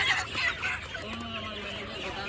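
Chickens cluck and murmur at a wholesale chicken market in Kolkata, a close, busy flock sound with mixed voices under it.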